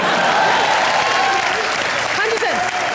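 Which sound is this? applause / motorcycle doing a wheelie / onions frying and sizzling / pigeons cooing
applause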